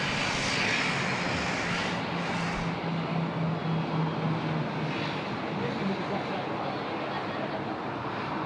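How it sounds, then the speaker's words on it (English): Qantas Dash 8 turboprop airliner at night near Sydney Airport, a steady broadband engine drone heard throughout from a moderate distance, continuous and unbroken with a low tonal hum underneath. "A little noise there in the background. A bit of a Qantas Dash 8."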